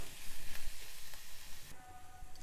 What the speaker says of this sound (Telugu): ఇది కూడా వేసుకొని కొంచెం వేగనివ్వాలి. చక్కగా కలుపుతూ వేగనివ్వాలి. ఈ పాలకూర కొంచెం వేగి మగ్గాలి.